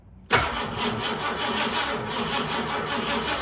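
An old carbureted car engine cranks over and over weakly with a rapid, sluggish churning rhythm, starting abruptly and continuing without catching.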